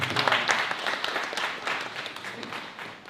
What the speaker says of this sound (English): Ladies and gentlemen, let's give ourselves a round of applause.